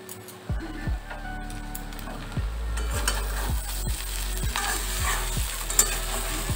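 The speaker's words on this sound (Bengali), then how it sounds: "গ্যাসের ফ্লেমটা কমিয়ে একটু ভেজে রাখবো" Yardlong beans fry in a pan over a low gas flame, giving a soft steady sizzle punctuated by repeated scraping stirs of a utensil against the pan, close and fairly quiet.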